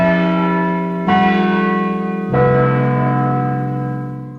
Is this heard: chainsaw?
no